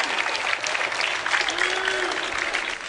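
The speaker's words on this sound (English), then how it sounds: "Give a big round of applause for Instinct, your 2010 Orlando champions." A crowd applauds steadily at a 2010 MLG Orlando Championship Sunday gaming event, cheering champions Instinct with a dense, continuous wash of clapping that holds for the whole stretch.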